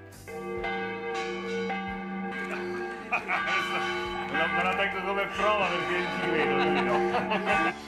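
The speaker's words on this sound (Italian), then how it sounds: "campane in festa fatte suonare dal parroco apposta per lui" Church bells ring out in a festive peal in an Italian village, layered tolling tones overlapping and growing busier, with faint voices and laughter beneath.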